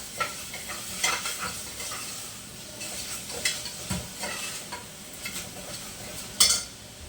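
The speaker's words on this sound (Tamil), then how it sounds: "தேவையான அளவுக்கு உப்பு நல்லா வதக்கி விட்டுக்கலாம்" Vegetables sautéing in a pan with salt, a steady soft sizzle under repeated scrapes and clinks of a spoon stirring against the metal, with one sharper clank near the end.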